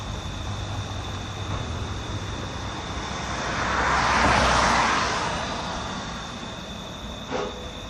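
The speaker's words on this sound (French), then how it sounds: "Il y a un petit hélico dans le ciel." A small helicopter passes through the night sky over the north extension of Port Est harbour in Réunion, a broad rotor-and-engine whoosh swelling from a distant rumble to a peak midway, then fading, over steady harbour background hum.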